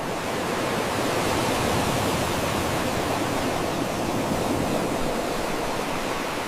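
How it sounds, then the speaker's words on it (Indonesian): Steady broadband rushing noise, like strong wind and surf blending together, continuous and fairly even throughout. "Angin bertiup kencang, ombak bergulung"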